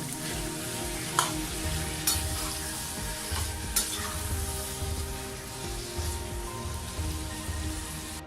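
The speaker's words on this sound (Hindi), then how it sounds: "ये देखिए मैंने इसको 5 मिनट के लिए जो है अच्छी तरह फ्राई कर लिया।" Lemon pepper chicken frying in a pan, with a dense, continuous sizzle and crackle like rain on a surface, punctuated by a few sharper clicks from stirring, steady and close with no talking.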